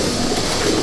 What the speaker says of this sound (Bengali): এটা মেল পায়রা, মেল পায়রা দেখুন